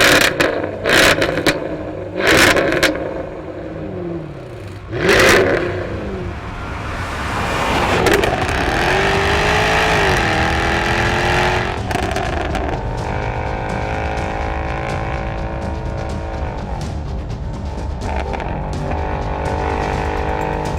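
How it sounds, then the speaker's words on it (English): Sport exhaust on a car in dynamic mode with sport transmission, roaring as it accelerates: a loud, sustained engine drone rising and shifting pitch, preceded by a few sharp bursts. "Exhaust sounds fantastic when I'm accelerating."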